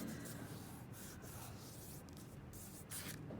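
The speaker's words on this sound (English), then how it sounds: "rub it down, rub all the edges, rub, rub, rub, rub to the edges and in the middle and everywhere." Steady rubbing of a hand across a crayon picture pressed onto a plastic sheet, a continuous soft scratchy friction with slight variations in pressure, close and quiet, with no talking.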